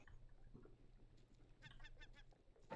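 A bird in the survival video game Raft gives short honking, goose-like squawks in a quick burst over low background game sound.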